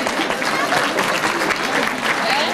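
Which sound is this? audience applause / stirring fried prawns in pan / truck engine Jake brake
audience applause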